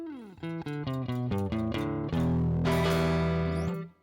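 Line 6 Variax 500 modeling guitar on its neck pickup, played clean as a quick run of single plucked notes that settle into a sustained ringing chord, which then cuts off; no talking.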